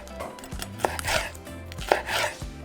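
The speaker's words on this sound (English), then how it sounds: "Just cut them in half, remove the seeds and all the insides, and just cut them into thin slices." A knife chops poblano peppers into thin strips on a board, a quick run of close, crisp cuts with two sharper knocks, alone without speech.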